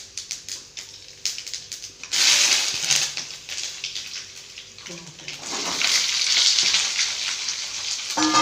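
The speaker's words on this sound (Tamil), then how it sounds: "கோவக்காய் கொஞ்சம் வதங்கட்டும்" Ivy gourd sautéing in a pan for a home lunch, a loud hissing sizzle that swells and fades alongside scraping stirs and clatter.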